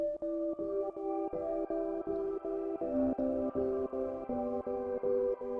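An Omnisphere piano chord pattern chopped by Gross Beat halftime and sidechain gating pulses in a steady, choppy rhythm of short gated stabs, soft and even, playing alone.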